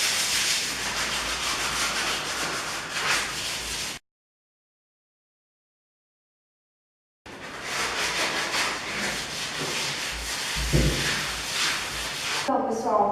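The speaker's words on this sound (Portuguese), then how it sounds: "Primeiro você vai estar usando uma lixa de ferro grossa." Coarse 60-grit sandpaper rubs over refrigerator metal in steady scraping strokes, broken by a few seconds of total silence before the sanding resumes.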